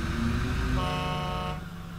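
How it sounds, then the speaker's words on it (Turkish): In Construction Simulator 2015, a vehicle horn, apparently from a concrete mixer truck, sounds one sustained, steady honk over a rumbling engine, then cuts off abruptly, leaving the engine idling. "korna sesinden duyulduğu üzere"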